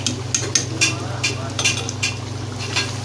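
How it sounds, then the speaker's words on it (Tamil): Mutton kuzhambu simmering in a pot in a home kitchen, a low steady bubbling hum under repeated light clinks and scrapes of a ladle against the vessel, fairly close. "மட்டன் குழம்பு இங்கே வெந்துக்கிட்டு இருக்கு"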